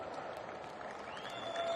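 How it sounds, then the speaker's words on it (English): A motocross Grand Prix podium crowd gives soft, subdued applause, a steady patter of clapping heard from a distance with a faint tone rising near the end. "Muted applause for Jago Geerts and Monster Energy Yamaha as he takes the third step of the podium"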